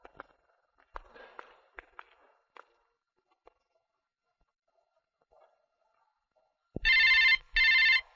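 A phone ringtone sounds twice in two loud, bright bursts near the end. Before it come sparse clicks, taps and faint background rustles in a mostly quiet room.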